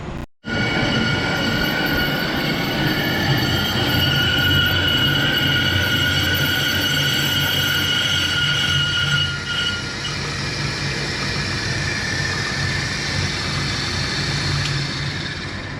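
A brake lathe cuts a brake rotor for a C-cab build, giving a steady, loud machining drone with a thin high whine that carries on without a break and no talking.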